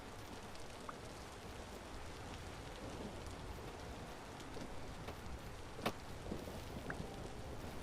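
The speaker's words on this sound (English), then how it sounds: "That lightning looked like it almost got him." Steady rain pours in Vintage Story's modded wilderness, a soft constant patter with a few crisper drops and a faint distant rumble of thunder underneath, quiet and continuous.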